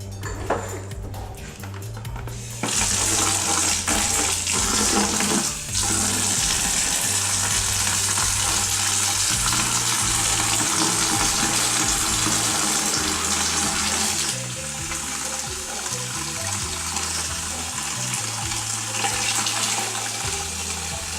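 Tap water gushing into a 5-gallon bucket for homemade laundry detergent: a loud, continuous rushing splash that holds steady for many seconds, with faint background clatter and no talk.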